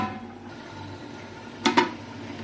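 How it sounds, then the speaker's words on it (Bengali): A lid is set down on a cooking pot with two quick close metallic clanks, over a low steady kitchen hum, with no talk. "আমি ঢাকনটা চাপা দিয়ে দিচ্ছি।"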